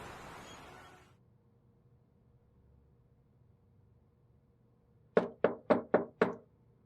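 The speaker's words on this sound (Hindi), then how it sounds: "कौन बदतमीज है जो इतनी रात को चोरों की तरह हमारा दरवाजा खटखटा रहा है?" A rapid burst of five sharp knocks on a door late at night, loud and close, following a stretch of near silence.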